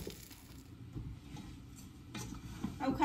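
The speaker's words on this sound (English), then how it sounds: "we're going to kind of keep stirring this and cooking this for about a minute till we get that flour taste out" Spoon stirring a flour roux in a pot for corn chowder, soft scraping and faint sizzle, quiet and close with light clinks of utensil against metal.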